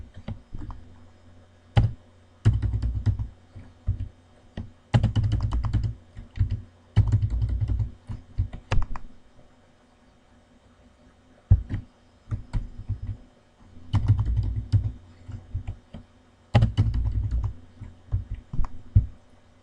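Bursts of fast, steady keystrokes on a computer keyboard as numbers are entered into a Microsoft Excel spreadsheet, several separate runs of clicking taps with short pauses between them, close and clear with no voices.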